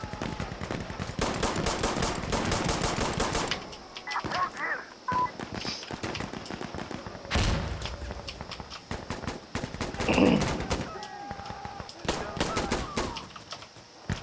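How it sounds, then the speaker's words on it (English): Rapid gunfire bursts from the video game Insurgency Sandstorm during a pistol match, with dense close shots early, then scattered loud reports and pauses throughout. "Damn, I'm getting shot at a lot."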